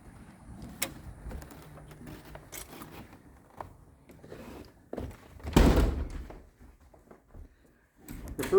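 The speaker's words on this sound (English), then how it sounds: "This is the front door." The front door of an empty house in Lake City, Florida, is opened, giving scattered thunks and knocks, then a loud bump and rattle near the middle. The space is otherwise quiet.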